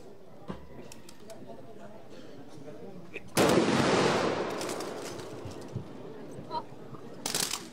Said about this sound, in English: Cover your ears as they offer initial salvo to officially welcome you all in this occasion.